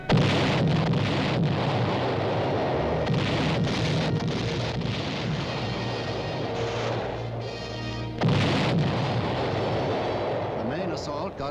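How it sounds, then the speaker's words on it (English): Heavy naval shore bombardment before a beach landing booms and rumbles continuously in a dense, roaring wash, with a fresh loud burst partway through and a voice speaking over it. "Got underway immediately after a devastating shore bombardment."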